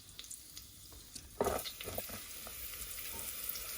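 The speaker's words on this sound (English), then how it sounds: "As soon as you hear that splutter, that means you're ready to chuck in the onions." Faint sizzling and crackling from a hot pan inside an electric pressure cooker, with scattered pops and a brief louder splutter as onions go in for a chickpea and spinach curry, then continued low frying.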